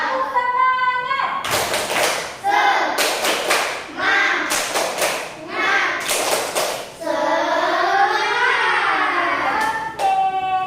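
Schoolchildren in a classroom perform a rhythmic spirit clap in several sharp, loud bursts of unison claps, with a teacher's and children's voices chanting between the clapping patterns.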